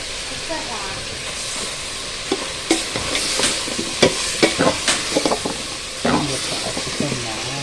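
Country chicken being stirred and fried in a pan for sambar, a steady sizzle with repeated scraping and clinking strokes from the stirring, close and fairly loud, with no speech.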